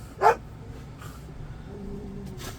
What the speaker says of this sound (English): I think she started barking before they started playing.